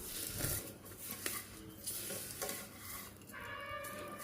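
Sev roasts in ghee in a pan over a medium flame with a soft continuous sizzle, while a utensil stirs and scrapes against the metal in uneven strokes.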